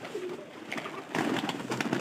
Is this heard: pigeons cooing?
yes